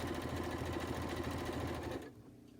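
A sewing machine stitches a rice-filled fabric bag, a close, fast, even mechanical hum that runs steadily for about two seconds before dropping away.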